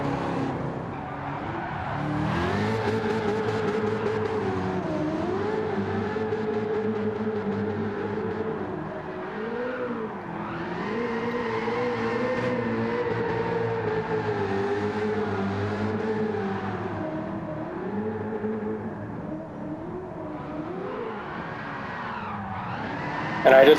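A D1 drift car in Gran Turismo 7 holds a loud, continuous engine wail that rises and dips with throttle changes, with tire squeal layered over it through the slides.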